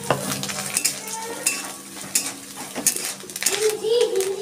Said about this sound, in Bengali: নারকেলটা আমার ভাজা হয়ে গেছে